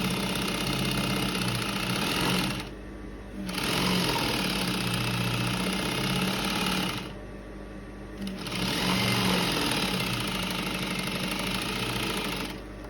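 A sewing machine runs close and loud, stitching shirring on a smocked off-shoulder dress in steady mechanical bursts that pause briefly twice before resuming.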